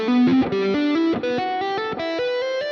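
Electric guitar with distortion and effects playing a scale slowly, each string's open note first and then fretted notes, as a steady run of distinct, sustained notes without talking.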